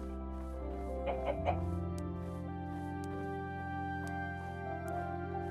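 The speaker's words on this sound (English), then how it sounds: "There's a chicken." A chicken in a snowy video game clucks a few quick times, close and fairly soft, over steady background game music.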